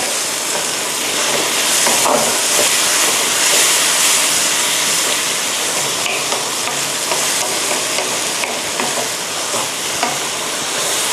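Beef stir-fried with plain yogurt and evaporated milk for Thai khao mok nuea sizzles steadily and loudly, with scraping stirs and occasional clicks of a utensil throughout, no voices.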